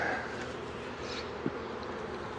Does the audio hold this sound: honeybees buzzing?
yes